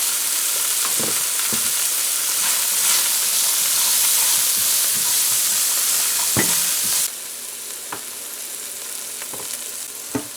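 Vegetable fried rice seasoned with salt and black pepper fries in a pan, a loud, continuous sizzling hiss with a few stirring knocks that drops to a softer sizzle partway through.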